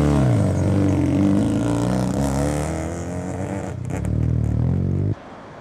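A Mazda RX-7 FD rolls in at Daikoku PA during an RX-7 gathering, its rotary engine giving a loud, close, throaty drone with shifting pitch that cuts off sharply near the end.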